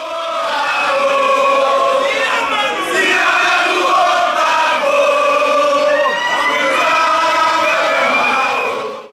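A large crowd marching at a rally sings and chants hymns together, loud and continuous, the many voices blending into a steady rising and falling chorus with no pause.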